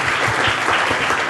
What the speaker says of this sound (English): Round of applause for Santiago.